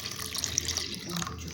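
Milk poured out while making homemade clarified butter, a steady close liquid splash running alone for the whole moment.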